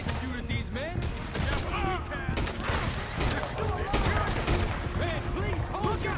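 Gunfire rages in a shootout in the video game Red Dead Redemption 2, with repeated shots cracking under frequent shouting and overlapping voices, dense and continuous across the battle.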